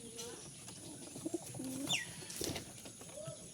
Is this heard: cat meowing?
no